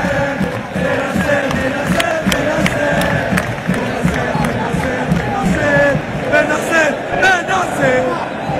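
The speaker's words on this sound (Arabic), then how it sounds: "سمعتوا أنصار نادي ميلان تهتف إسماعيل بن ناصر إسماعيل بن ناصر" AC Milan supporters in a stadium chant Ismaël Bennacer's name, a loud, continuous rhythmic crowd chant with many voices rising and falling together.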